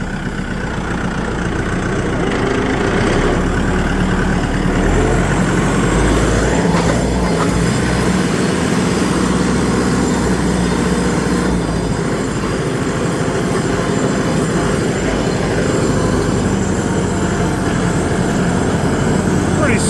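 A 2025 Mahindra 4550 tractor engine drones loudly and steadily in high gear, a constant low heavy rumble with no breaks, close by the whole time.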